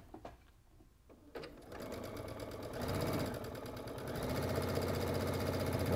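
Sewing machine stitching a quarter-inch seam for bias binding, starting after a few clicks and settling into a steady close whir that speeds up toward the end.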